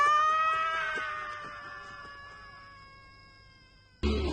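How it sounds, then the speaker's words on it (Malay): A wak-wak bird gives a single long, piercing call that slowly glides and fades over several seconds, followed by an abrupt burst of other sound at the end. "Tengok, burung wak-wak."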